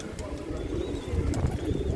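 A fully white pigeon coos nearby, soft low throaty calls over a murmur of background noise and faint rustling.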